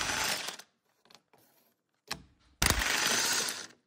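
A ratchet wrench with an 18mm socket undoes engine mount bolts on a Ford Zetec engine, giving short bursts of fast clicking separated by pauses, close and fairly loud.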